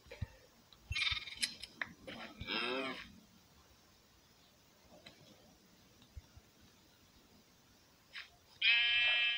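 A few wavering bleats, like a sheep, come in short bursts with quiet gaps between, plus one louder, clearer bleat at the end.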